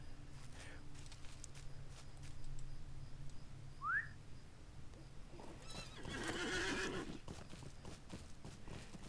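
A horse mount in a video game whinnies in one short rising call, followed by a louder burst of neighing and clopping hooves at dismount, over a low ambient game soundscape.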